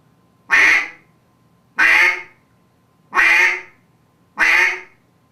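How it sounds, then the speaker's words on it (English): A duck call blown by hand produces four loud, evenly spaced single quacks, each a short raspy blast about a second apart, close and alone with no talk. "So it's just that one crack is the basis of all life on a duck call."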